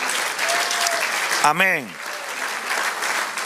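Church congregation clapping for the Lord during a Spanish-language sermon, a continuous patter of applause throughout, briefly overlaid by a sung or shouted voice in the middle.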